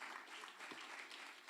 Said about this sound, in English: Let's keep on applauding him.